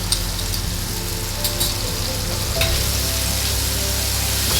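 Mustard paste frying in a pan for a Bengali brinjal curry, a close, steady dense sizzle with faint stirring scrapes and no talking.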